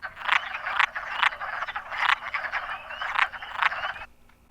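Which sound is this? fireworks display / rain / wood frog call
wood frog call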